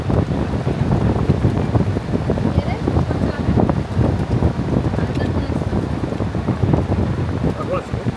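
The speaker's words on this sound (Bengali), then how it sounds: "সেই সঙ্গে আরও জোয়ার আসছে, এক একটা ঢেউ আসছে, সেটা দেখাচ্ছে আপনাদের" Sea waves roll in with steady wind on Digha beach as the tide rises, a continuous loud wash of surf and gusts across the whole stretch with no pauses.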